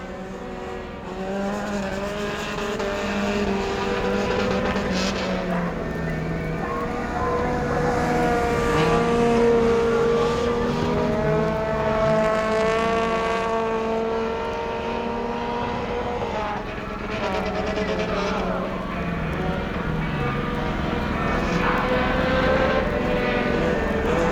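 Compact speedcars race around a speedway, their engines droning and rising in pitch in loud, overlapping tones as they pass, a continuous roar with no clear break.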